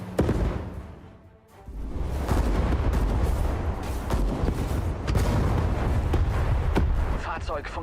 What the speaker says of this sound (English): There it goes. The guided missiles.